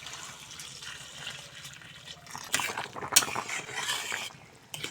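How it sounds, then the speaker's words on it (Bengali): Water poured into a pan of papaya sautéed with spices for an egg curry, a steady splashing pour with a louder gush midway, near and alone. "এখন দিয়ে দেব পরিমাণ মতো জল"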